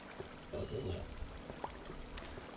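A waterfall in Minecraft, heard as a soft, steady rush of falling water, faint and continuous with a few small splashy ticks.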